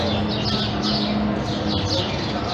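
A bird high in a baseball stadium during a Blue Jays versus Rays game gives repeated bright chirps. The calls sit over a steady, loud crowd and ballpark din.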